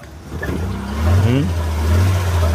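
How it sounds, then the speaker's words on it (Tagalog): A Suzuki Multicab mini truck engine runs and revs up as a steady, close low drone, with a voice speaking over it. "Andar kayo itong multicab."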